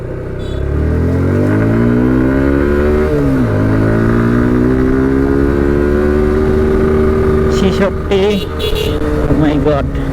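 A carbureted Suzuki Gixxer motorcycle accelerates hard in second gear on a rough road, its engine note climbing steadily and loudly after a brief dip from the gear change, with a few clattering bursts near the end.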